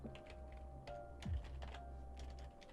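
Quick keyboard typing while writing a police report in a FiveM roleplay game, a short run of soft clustered key taps over a low background hum, close and without speech.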